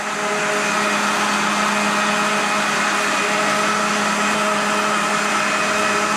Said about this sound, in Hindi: देखें, हमने ब्लेंडर को चला दिया है।